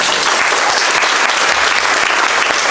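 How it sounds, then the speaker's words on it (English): A crowd applauding at a charity lunch, dense continuous clapping throughout, loud and close. "big round of applause for Louise, everyone."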